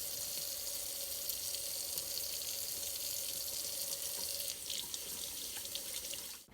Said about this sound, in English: Please wash your hands for about 20 seconds with soap and warm water